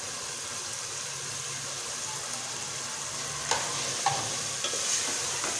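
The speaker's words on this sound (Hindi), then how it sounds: "इनको अच्छी तरह से मिक्स करूँगी" Spices, turmeric, crushed red chilli and salt being stirred into tinda and tomatoes in a cooking pot, a steady soft sizzle with a few light scraping clicks of the spoon near the end, no voices.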